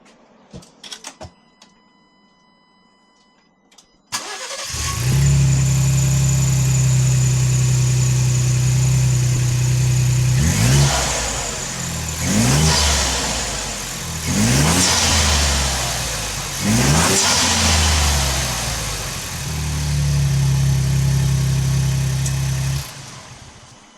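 A Ford Bronco turbo engine fitted with a K&N cold air intake starts up and idles, then revs four times in quick bursts, each rising and dropping back, heard up close before settling to idle again.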